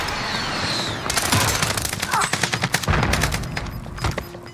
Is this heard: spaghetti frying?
no